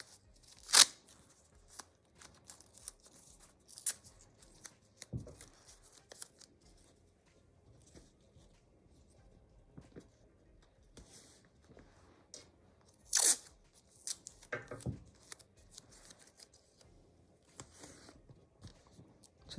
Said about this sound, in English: I'm going to just tape it down to secure it in place.